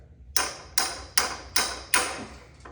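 Five sharp metallic hammer taps on a saw blade being seated on a Bosch miter saw, evenly spaced about every 0.4 seconds, each ringing briefly before the next strike, close up.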